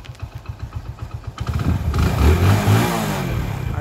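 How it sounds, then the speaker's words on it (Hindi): A Pridor motorcycle engine puts out rhythmic idle putters, then revs up into a louder, rough running roar that holds steady, close by. "प्राइडर को स्टार्ट कर लिया,"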